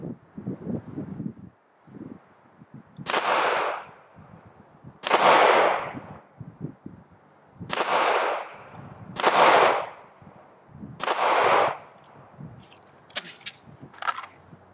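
Five pistol shots fired at 10 yards with Dawson Precision competition sights, each a sharp loud crack spaced about two seconds apart, with a couple of fainter pops at the end and light wind noise between.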